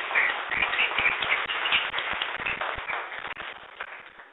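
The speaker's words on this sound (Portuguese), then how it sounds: "Palmas!" A class audience in a programming lecture claps together, a busy patter of many hands that stays fairly even, slightly muffled and moderately loud throughout.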